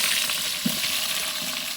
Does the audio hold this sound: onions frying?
yes